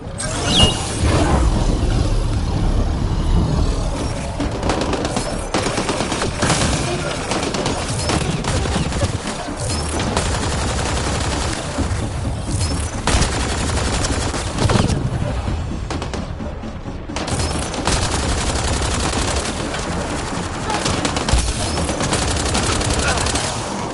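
Loud, sustained gunfire from the video game Mass Effect Andromeda: rapid bursts and volleys of shots run through the whole stretch, layered over a busy combat soundscape.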